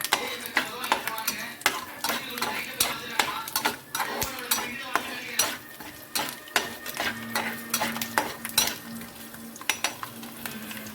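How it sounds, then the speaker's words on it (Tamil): Peeled garlic sautés in a little oil while a spoon stirs and scrapes the pan. Sizzling runs throughout under repeated close metallic clinks and scrapes in an irregular rhythm. "எண்ணெய் விட்டு கொஞ்சம் பூண்டு போட்டு உரிச்சு வச்ச பூண்டெல்லாம் போட்டு லைட்டாக வதக்கிக்கிறேன்"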